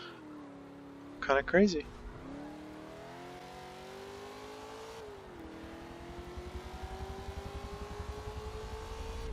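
A rear-wheel drive race car in Forza Motorsport 7 drives with a steady engine drone that shifts pitch through gear changes, heard under someone talking briefly.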